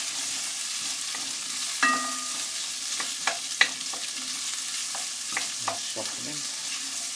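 Onions frying and softening in a pan, a continuous bright sizzle broken by several clicks and scrapes of a utensil stirring them, close by with no talking.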